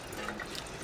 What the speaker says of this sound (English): under running water, using a paper towel.